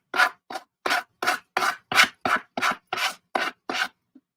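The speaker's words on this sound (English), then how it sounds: "Let me sand this before." A napkin-decoupage journal cover is sanded with about a dozen even, rhythmic rasping strokes. The scrapes are close and loud, and there is no talking.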